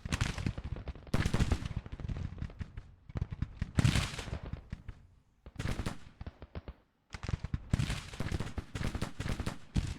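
Cavalry volleys ring out in the Civil War strategy game Grand Tactician during a Rebel spring 1864 campaign. Loud, crackling bursts of massed musket fire come in repeated clusters, separated by brief near-silent gaps. No talk is heard.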